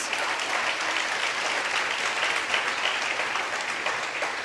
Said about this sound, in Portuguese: Se for para Jesus, pode dar a melhor salva de palmas.